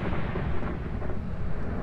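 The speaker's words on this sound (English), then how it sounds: "Did he just activate the thunder?" Thunder from the ghost-hunting video game Phasmophobia rolls as a low, dense rumble, steady and fairly loud for the whole stretch with no voices.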